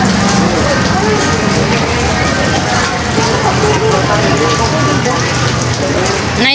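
Steady heavy rain pours down in a constant dense hiss that lasts throughout, with people talking beneath it.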